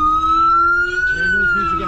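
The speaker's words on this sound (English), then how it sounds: "It's an ambulance." An ambulance siren wails loud and close in a sustained tone, with a vehicle rumbling beneath it and a voice briefly audible under it.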